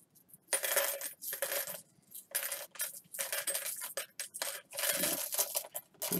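A coin, apparently a quarter, is dropped and handled, giving a series of bright metallic clinks and scrapes in short bursts close to the microphone, with no voices.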